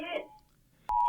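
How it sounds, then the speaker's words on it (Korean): A loud, steady electronic emergency disaster text alert tone on a phone, sent for a magnitude 4.8 earthquake in Buan, South Korea, starts abruptly after a brief moment of quiet. "경보음이 울립니다."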